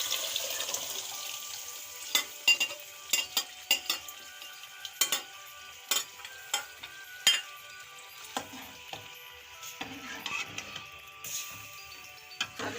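Moong dal is added to fried masala in a pot and stirred, making a soft crackling sizzle broken by scattered sharp clicks and scrapes of the spoon, with no talking.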